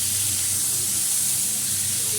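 Cut potatoes and eggplant sizzling in a hot pan for a mustard-paste chorchori, a loud, steady frying hiss throughout.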